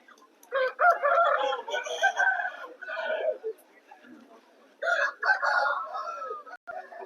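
A red rooster at a market crows loudly and nearby, two long strained calls separated by a brief pause, with some clucking and background noise around them.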